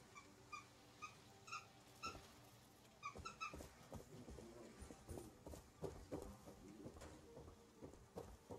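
A new puppy makes faint, high whimpering yips in the background of a quiet indoor room, scattered among soft shuffling and knocks.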